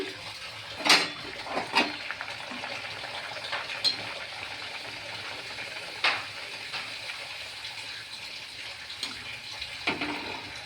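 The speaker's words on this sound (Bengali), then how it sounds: "আমার লুচি ভেজে নিচ্ছি" Luchi frying in a kitchen: scattered metallic clinks and scrapes of utensils sound over a faint background sizzle and watery hiss, fairly close.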